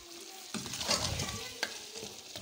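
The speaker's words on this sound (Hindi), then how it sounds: "ये हमारी चिकन फ्राई हो चुकी है" Chicken fries and is stirred in a pan for chicken karahi, giving a steady close sizzle with scraping stir strokes, two sharp clatters of the spoon near the middle and end, and no talking.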